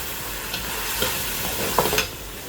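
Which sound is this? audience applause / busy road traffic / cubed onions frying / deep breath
cubed onions frying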